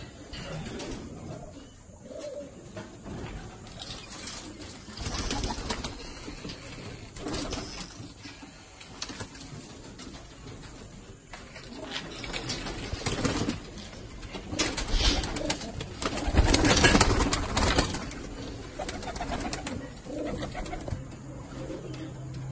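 Malwai pigeons coo in a loft, soft repeated coos rising and falling over faint background noise, with occasional rustles and brief bursts of louder activity.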